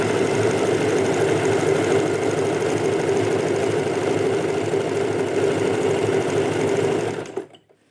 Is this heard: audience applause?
no